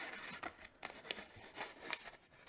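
Scissors snipping paper to cut out a curvy arm and claws for a Lunar New Year paper dragon craft, a quick series of soft, close crisp cuts heard alone.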